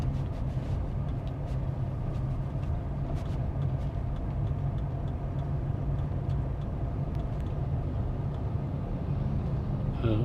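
A car cruising in third gear on a straight road gives a steady, even engine and road hum heard from inside, continuous throughout with no talking.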